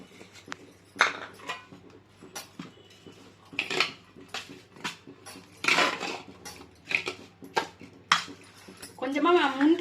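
A spoon scrapes and clinks against a bowl while mixing varagu rice puttu with sugar and coconut, irregular metallic taps and clatters, with a voice briefly over them at the end.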